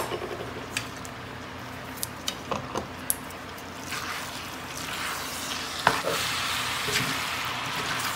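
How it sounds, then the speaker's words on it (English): Black beans sizzle in a cast iron skillet of Tex-Mex mix, a soft steady frying hiss broken by a few sharp clinks and scrapes of a utensil stirring, then a louder crackle as the sizzle builds. "now, we're gonna add the black beans, which is my favorite."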